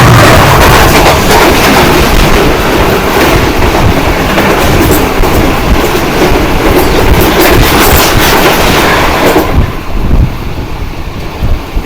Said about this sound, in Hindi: पेशावर से चलने वाली 48 डाउन रहमान बाबा एक्सप्रेस